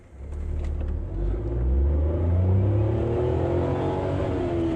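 A Maruti Suzuki Alto K10 car accelerates from inside the cabin, its engine rumble climbing steadily in pitch as revs build, loud and continuous with no talking.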